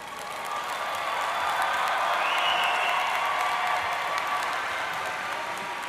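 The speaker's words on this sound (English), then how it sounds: "Congratulations, graduates." Applause from a large audience for graduates at a university commencement ceremony, a dense, even wash of clapping that swells in and holds steady, heard from a distance in a big hall.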